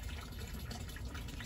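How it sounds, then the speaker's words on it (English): A small pump in a koi pond breaks the water surface, giving a steady, soft splashing and trickling wash heard close and alone. "kind of a small pump going on that side. That's just to break the surface of the water."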